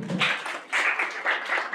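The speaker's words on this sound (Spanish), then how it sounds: "Un aplauso, por favor." Audience at a human rights talk breaks into applause, quick uneven waves of clapping that swell and dip, moderately loud and close.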